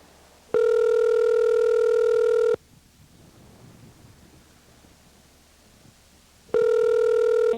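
Ringback of an outgoing phone call repeats as steady two-second tone bursts, one early and one near the end, with a faint hissy line gap between them, loud and alone.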